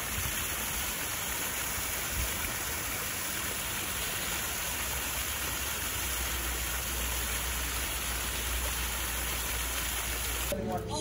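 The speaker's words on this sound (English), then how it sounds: "Waterfall over here, I never get this." Waterfall at the Silver Dollar City theme park, a dense steady rushing roar of falling water, loud and constant throughout, with faint background sounds.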